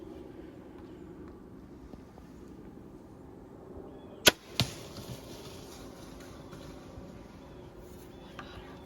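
A single sharp snap of a bow release at a deer, quickly followed by a second thud, in a quiet outdoor setting with faint background rustle.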